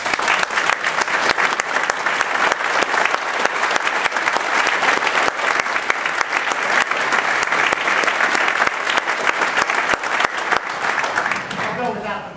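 A concert audience claps steadily throughout, dense and loud applause from a full crowd after a conductor's talk on Beethoven's Ninth Symphony, tapering slightly at the very end.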